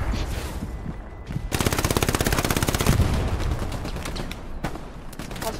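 Sustained automatic rifle and machine-gun fire in the World War II shooter Hell Let Loose, a fast rattling burst of close, loud shots followed by scattered single cracks, with brief voice chatter in the background.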